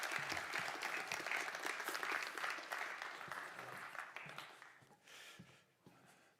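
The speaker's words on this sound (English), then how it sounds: "Okay, big applause." An audience at an industry conference in Porsgrunn, Norway, claps loudly and steadily for a few seconds, then the applause thins and tapers off into scattered claps.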